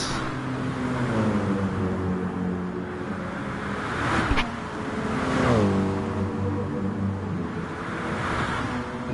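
A BMW M6 race car engine in a sim racing game at Spa in the wet, revving through gear changes with rising and dropping tones, moderately loud and alone.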